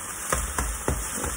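Breakfast frying in a fry pan: a steady crackling sizzle with a few soft scraping strokes of a utensil, close and fairly quiet, with no speech.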